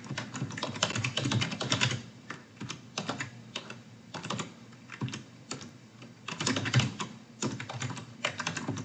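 Python code is typed on a computer keyboard in quick, uneven bursts of close key clicks, pausing briefly between runs, with no talk.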